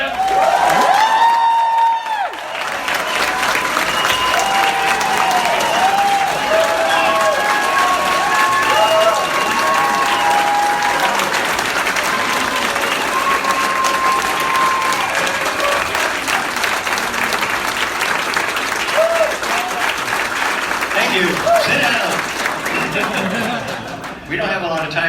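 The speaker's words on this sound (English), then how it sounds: "let's do a big round of applause for Rick Baker, man." Convention crowd at a monster and horror fan event gives makeup artist Rick Baker a long, loud ovation of clapping, cheers and whoops, with voices rising through it before it fades out near the end.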